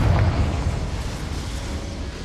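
A Confringo explosion spell in Hogwarts Legacy goes off as a loud, close blast with a heavy low rumble that fades gradually over a couple of seconds.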